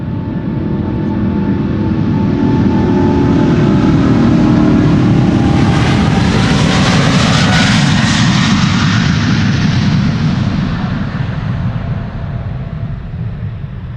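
Airliner engines roaring on departure at Schiphol Airport, a loud sustained jet rumble that builds and sweeps past with a rising then falling whine, close and continuous for the whole stretch with no talking.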